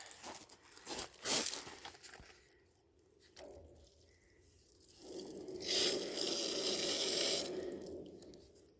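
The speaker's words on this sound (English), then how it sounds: "You can hear the water going in." Water rushes into a 5000 gallon tank being plumbed for fire protection. Gurgling and splashing come and go at first, then a strong, steady pour runs loud for several seconds before easing off.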